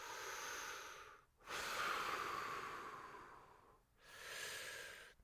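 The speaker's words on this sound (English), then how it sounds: "Take some breaths, nice and deep." Deep breathing during a stretch: two long, faint, airy exhalations separated by a short pause, a third breath starting near the end, close and unhurried with no talk.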